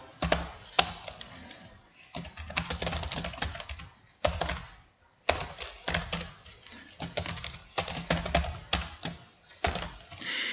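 Quick bursts of typing on a computer keyboard while entering records into an Access database, close and clicky, in several runs separated by short pauses, with no talk.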